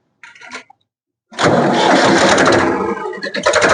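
A Ford 3600 tractor engine cranks and catches, settling into a loud, steady diesel run close by after a short burst of sound and a brief pause, with no talk over it.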